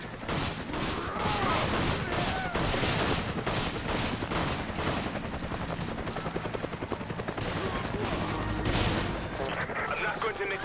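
Rapid gunfire bursts and fusillades crackle through Resident Evil 5's Public Assembly stage, dense and continuous across the whole stretch, with a low droning rumble and game effects beneath and occasional voices over the action.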